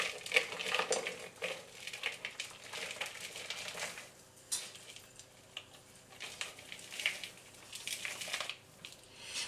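Chopped chocolate tipped into a pot of heating cream, with soft clinks, scrapes and stirring of a spoon against the pot, quiet and intermittent over about nine seconds.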